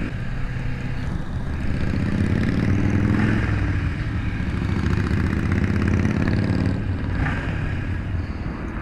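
Small Japanese motorcycle engines run steadily at a low, buzzing idle, a continuous mid-pitched drone that holds even loudness throughout with no talking.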